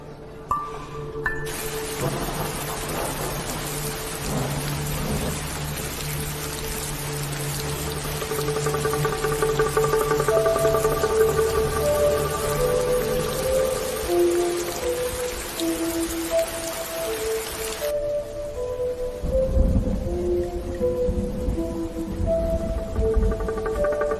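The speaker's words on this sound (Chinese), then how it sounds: "你叫老天爷下雨，他就下。" Steady rain pours down in a hissing wash under sustained musical tones for most of the stretch, then thins out, with a low rumble near the end.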